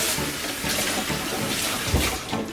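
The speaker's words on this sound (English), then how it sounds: "So I have 3 beautiful mangoes, so I'll give them a wash." Ripe mangoes rinsed under a running kitchen tap, a steady close rush and splash of water that continues without a break.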